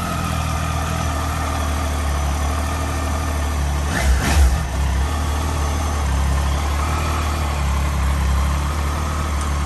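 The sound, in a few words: Triumph Tiger 800 XCX motorcycle engine starting and idling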